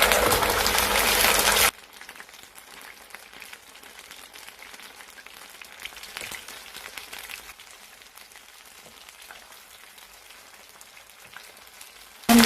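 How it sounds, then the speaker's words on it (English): Potatoes frying in oil in a pan over medium heat give a steady, quiet sizzling crackle that runs through most of the stretch, with a brief louder burst at the start and end. "And then now I'm going to fry my potatoes on"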